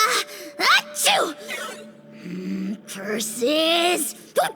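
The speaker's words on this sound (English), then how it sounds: "Achoo!" A Genshin Impact character gives a quick voiced sneeze among short gasping vocal bursts, close and clear, with spoken voices around it.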